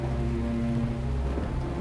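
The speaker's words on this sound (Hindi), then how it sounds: "बारिश बहुत तेज हो रही है ना" Heavy rain comes down in a steady, dense hiss with a low rumbling undertone, constant and fairly loud, during a Pakistani TV drama scene, with no voices.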